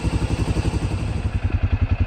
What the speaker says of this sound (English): Motor sounds healthy on it.